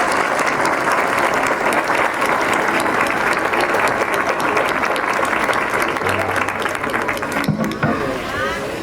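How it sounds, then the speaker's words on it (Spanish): A large crowd at an anniversary ceremony in Rocha applauds the choirs and the departmental symphony orchestra, with loud, dense, sustained clapping throughout and a short speech-like voice near the end. "pedimos un fuerte aplauso otra vez para los coros que acaban de interpretar el himno de Rocha y también para la Orquesta Sinfónica Departamental"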